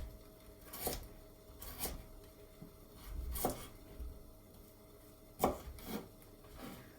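Celeriac being sliced with a knife, with four or five separate crisp cuts spaced about a second apart, close and fairly quiet, with soft handling noise between them.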